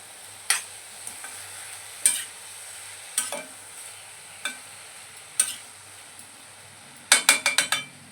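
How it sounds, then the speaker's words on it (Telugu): Chopped tomatoes being stirred with a ladle in a pan for a ridge gourd curry, heard as sharp metallic scrapes and clinks at irregular intervals, ending in a quick burst of several knocks, with no talking. "ఇవన్నీ కూడా గరిటెతో ఇలా కలుపుకోవాలి."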